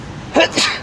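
A single close sneeze, a quick two-part burst breaking over a quiet room background.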